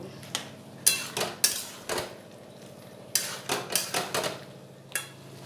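Spices with potatoes and peas are stirred and fried in a pan, with a spoon scraping and clinking against the metal in a series of sharp, irregular knocks over a faint background sizzle.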